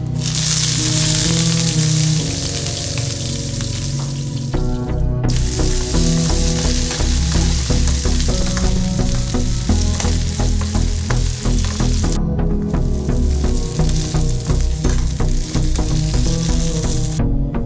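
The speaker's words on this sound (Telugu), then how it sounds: "ఫ్రై చేసిన తర్వాత వంకాయ ముక్కలు వేసుకోవాలి." Brinjal pieces frying in a pan for a pachadi, a loud continuous sizzle with crackling and stirring noises throughout, briefly dipping twice.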